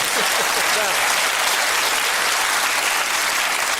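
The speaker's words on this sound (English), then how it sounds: "that's what clapping sounds like" A television studio audience bursts into applause, a thick continuous wash of clapping from many hands that stays loud and even throughout.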